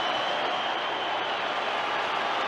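Roaring stadium crowd at Dodger Stadium during a 1981 World Series game between the Yankees and Dodgers, a steady dense wash of cheering and applause with no pauses, loud and continuous throughout.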